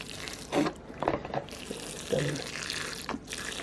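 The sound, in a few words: water poured from a bottle onto tomato seed pot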